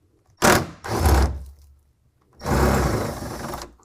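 Power tool spinning out the 10mm bolts on the fender flare of a 2017 Ford F-150: three close, loud whirring bursts, two quick ones followed by a longer run after a short pause.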